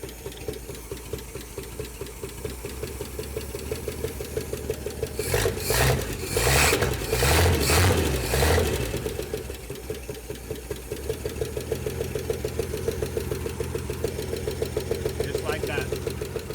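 A 1968 Chevrolet Impala V8, long abandoned, idles roughly with a dead miss, a steady low rumble with a louder revving surge partway through, recorded up close while people talk.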